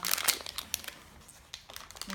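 Foil wrapper of a Kinder Surprise egg crinkling and crumpling as it is unwrapped at close range, in bursts of rustling with short pauses; faint voices in the background.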